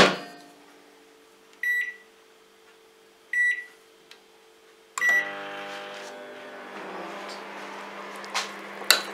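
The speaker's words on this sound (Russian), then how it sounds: "микроволновку на минуту отправим." Button beeps sound twice, then a microwave oven starts up with a steady droning hum and rattle, close by.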